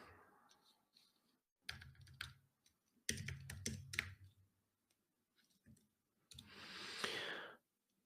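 Typing on a computer keyboard while entering data into MapInfo: short bursts of quick, close clicks with pauses between, ending in a longer rushing noise.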